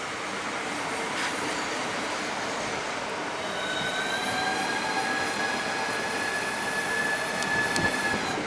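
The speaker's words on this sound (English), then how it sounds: "Now we've got another high-speed train terminating here for London St Pancras by Faversham" A Class 395 high-speed train, unit 395027, sits terminating at Ramsgate station, its steady broadband hum and whining tones filling the platform, with thin squealing harmonics rising partway through.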